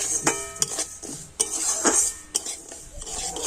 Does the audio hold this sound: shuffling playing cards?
no